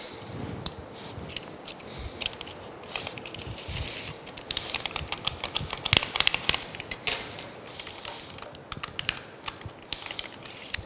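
Aluminium foil folded into a small pouch at a tool-making bench, giving close, dense crinkling and sharp crackles that run continuously with brighter bursts through the middle.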